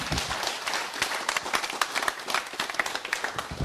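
Audience applause at a motivational talk, with a dense patter of many hands clapping steadily for several seconds. It stays moderately loud and fairly even throughout.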